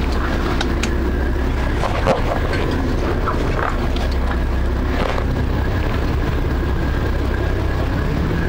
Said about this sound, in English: The engine up there.